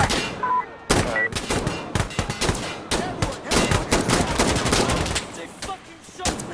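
Rapid gunfire in the co-op shooter game Insurgency Sandstorm, loud close bursts of automatic rifle fire mixed with single cracks, dense and continuous across the scene.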